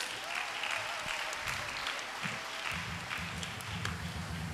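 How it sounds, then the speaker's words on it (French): Applause rises from a church congregation at the closing mass of a children's missionary event at Sainte Anne: steady, dense clapping through the whole stretch with a low rhythmic undertone, fairly loud and without any spoken words. "Vous pouvez vous acclamer très fort."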